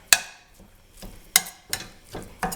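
Ground meat being mashed with a utensil in a pan and starting to fry, giving a few sharp scrapes and clacks at irregular intervals over a faint sizzle, close and alone.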